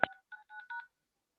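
Telephone keypad tones dialing into a board meeting conference line: a quick series of four crisp beeps, the first sharp and loud, the rest evenly spaced, alone on a silent line.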